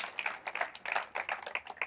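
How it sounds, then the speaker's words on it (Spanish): Church congregation clapping in a brief burst of applause, sharp scattered hand claps fairly close and on their own. "Dale un aplauso al Señor."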